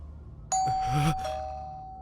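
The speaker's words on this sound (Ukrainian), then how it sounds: "може монстр дзвонити у дзвін?" A doorbell in a horror manhwa narration chimes once with a bright tone that hangs and slowly fades over low background hum.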